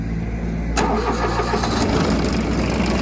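A 1999 Yanmar KE-50 tractor's engine cranks briefly and then catches, settling into a loud, close, rumbling idle that runs steadily to the end with no talk.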